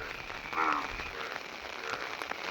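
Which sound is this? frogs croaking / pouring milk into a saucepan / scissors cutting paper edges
frogs croaking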